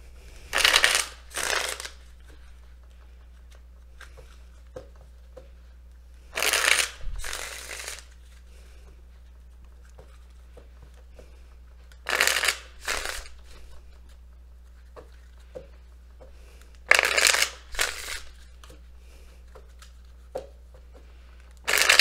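Tarot card shuffling comes in four short bursts of riffling and flicking, separated by quiet pauses, close and fairly loud against a low steady hum.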